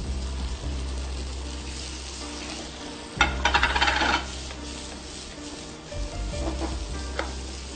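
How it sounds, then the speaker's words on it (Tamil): Ground roasted masala frying with cooked tomatoes in a pan, a low steady sizzle broken by a burst of louder stirring and scraping midway and a few later spoon scrapes, with no talk. "இந்த மசாலாவை வந்து இது கூட நம்ம போடுறோம்."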